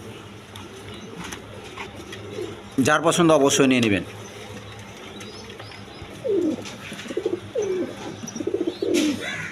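Red checker racer pigeons give low, throaty coos nearby in short bursts, with someone talking over and between the calls.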